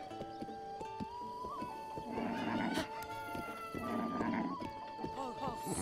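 A horse in The Legend of Zelda: Breath of the Wild whinnies and snorts amid clip-clopping hooves and game-like background tones, with speech mixed in.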